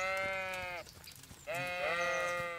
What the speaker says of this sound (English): Sheeps.